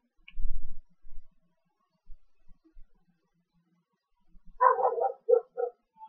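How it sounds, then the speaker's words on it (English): A dog barks indoors, a few separate short barks spread out, sounding moderately close. "That's my dog."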